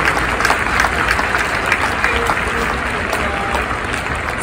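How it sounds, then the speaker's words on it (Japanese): Stadium crowd applause during a Yokohama DeNA BayStars versus Fukuoka SoftBank Hawks baseball game, a loud broad wash of clapping from a large crowd with sharper nearby claps standing out, steady throughout. "拍手でお迎えください。"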